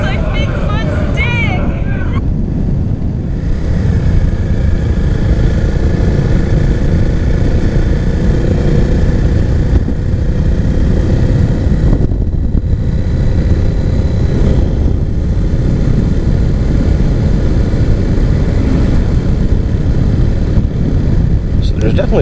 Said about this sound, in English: So there's definitely a conscious effort to get a louder exhaust.